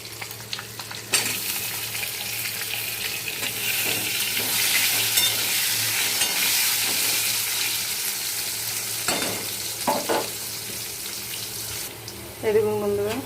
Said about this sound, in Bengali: এবার আলুগুলো দেবো, আলুগুলো একটু ভাজা ভাজা হবে